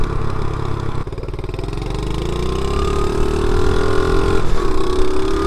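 A 50cc Chinese pit bike engine catches after a kick start and runs, a close, loud buzzing idle with a rising, wavering pitch as the throttle is blipped.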